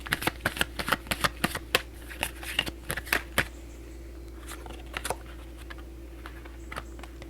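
Tarot cards are shuffled by hand in a quiet room, a close run of sharp, rhythmic taps and flicks for several seconds, then a few sparser soft clicks.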